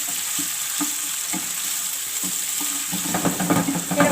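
Onions fry in a pan toward a light golden colour for spiced potato cutlets, giving a steady close sizzle with periodic scraping stirs that grow busier and louder toward the end.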